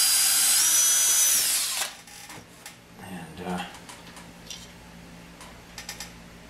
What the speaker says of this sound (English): I'm going to drill a hole where I mark it.